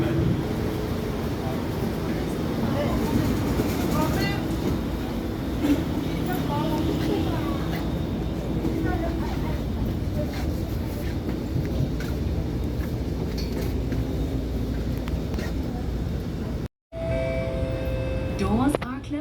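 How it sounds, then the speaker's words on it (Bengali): A Singapore MRT train pulling into a station, with a sustained low rumbling roar that fills the platform while a person talks over it, then a brief dropout near the end. "কিন্তু দেখুন ট্রেন চলে আসছে।"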